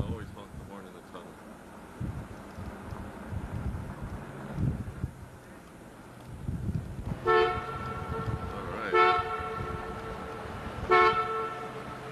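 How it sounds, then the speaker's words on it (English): Vehicle horn honked inside a road tunnel, three loud blasts with ringing echoes in the second half, after road and wind rumble with people talking. "there you gotta always honk the horn in the tunnel"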